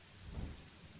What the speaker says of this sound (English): a heavy downpour of rain began to soak me